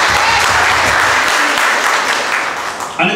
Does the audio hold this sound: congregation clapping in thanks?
yes